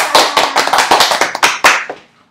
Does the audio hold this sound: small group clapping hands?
yes